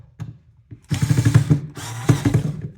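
A screwdriver drives long screws into an electrical outlet in two loud, close motorised whirring bursts of roughly a second each, with a few short taps and rattles before them.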